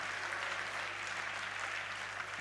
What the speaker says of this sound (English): May we give CoDA and the EQUITABLE University a big round of applause